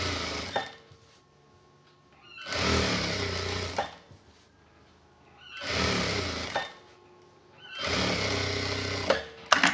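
A sewing machine stitches a three-button half-sleeve shirt in several loud, close bursts of rapid mechanical whirring, separated by quiet pauses while the fabric is repositioned.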